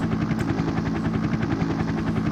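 Helicopter in the video game Parasite Eve, with fast rhythmic rotor thumps over a steady engine drone, loud and constant, no talking.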